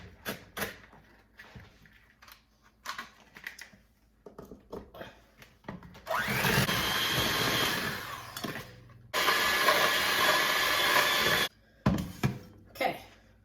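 An electric mixer creams peanut butter for cookie dough in two loud, steady bursts of a few seconds each, surrounded by quieter kitchen clatter and brief handling sounds.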